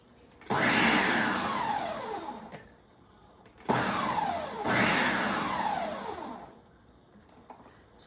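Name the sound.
Ninja blender pulsing pumpkin soup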